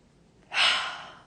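A single deep inhaled breath taken during a guided forgiveness meditation, close and clear, rising sharply then trailing off softly after quiet silence.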